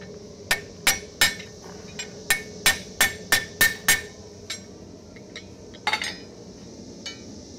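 Hot steel hammered on the horn of an anvil: a run of about a dozen sharp, ringing metallic strikes in an uneven rhythm, loud and close, the later blows lighter and more spaced.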